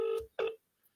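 A telephone keypad sounds two loud, clear dialing tones in quick succession, followed by near silence.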